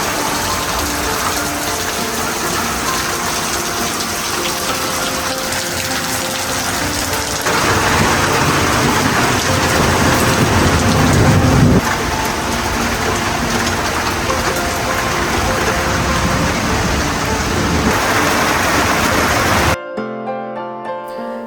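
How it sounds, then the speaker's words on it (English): Heavy rain pours down on a small-scale flower farm, a loud, dense, continuous hiss that swells partway through and then cuts off abruptly near the end. "The rain became really heavy and it was way too heavy to be outside"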